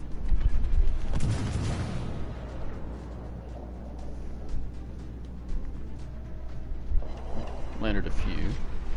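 World of Warships naval guns fire in heavy booming salvos, one at the start and another near the end, with rumbling between them while a player talks over the action.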